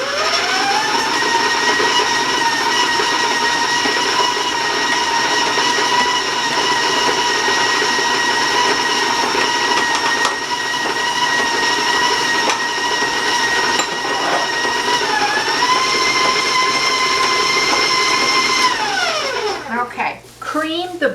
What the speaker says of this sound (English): I'm going to warn you about the sound of the mixer.